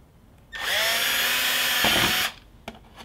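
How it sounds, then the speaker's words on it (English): A power drill spins up sharply and bores a hole through a car panel during an LED turn-signal install, a loud steady whine for under two seconds before it stops, followed by a couple of faint clicks. "don't push the drill right through"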